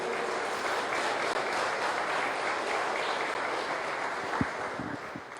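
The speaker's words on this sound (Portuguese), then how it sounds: "Vamos aplaudir Jesus por ela?" A church congregation claps continuously during a service, a dense steady wash of applause that tapers slightly near the end.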